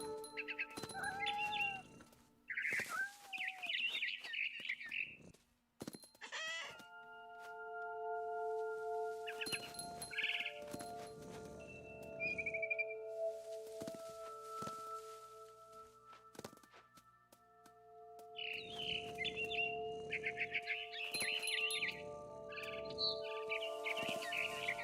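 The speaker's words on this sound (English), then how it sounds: "Then I heard chirping outside my window. It was a barn swallow going back to her nest." A barn swallow chirps in the game What Remains of Edith Finch, quick bright twittering calls in scattered bursts over soft game music and ambient tones.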